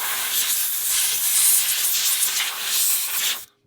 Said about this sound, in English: Blow it out with the compressor.